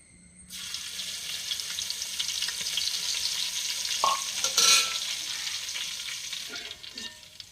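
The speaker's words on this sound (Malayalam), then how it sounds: "അപ്പോൾ നമ്മൾ വെളുത്തുള്ളി ഒന്ന് വറുത്തെടുത്തിട്ടുണ്ട്." Crushed garlic hits hot oil in a pan and sets off a sudden, steady sizzle, with a brief louder burst and a few stirring knocks partway through.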